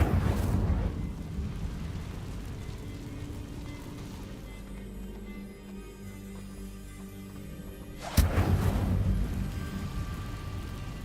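A fire spell cast in Hogwarts Legacy, a roaring, crackling blast of flame over a broad rumbling game soundscape, with a sharp loud burst near the end.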